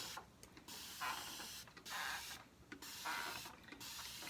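A handheld spray bottle mists water onto hair in several quiet, repeated spritzes, each a short hissing burst separated by brief pauses, with no voices.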